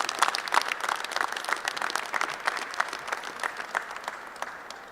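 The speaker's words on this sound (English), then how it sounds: "Please, a big round of applause for Representative Ryan McKenzie." Audience applause greets Representative Ryan McKenzie at an opioid epidemic discussion, a steady wash of many hands clapping that holds for about five seconds without talk.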